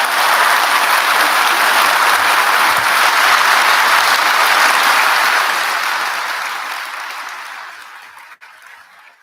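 Sustained applause from a graduation ceremony audience, steady and dense for several seconds before gradually thinning and fading out near the end.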